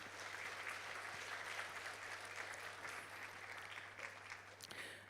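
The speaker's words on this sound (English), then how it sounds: "Let's give everyone a big round of applause," Audience applause fills a hall at the Borneo Energy Transition Conference 2024, a dense, steady wash of many hands clapping at even loudness, tapering slightly toward the end.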